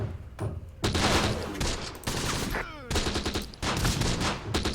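Dense WW2 battle gunfire from Close Combat: The Bloody First in Sicily, with bursts of rifle and machine-gun fire crackling in loud, overlapping volleys. It comes in rapid clusters with short lulls between them.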